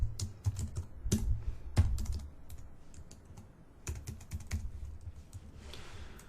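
Typing on a computer keyboard while entering C# code: close, quick clusters of light key clicks with short pauses, busier at the start and again near the end, with no talk.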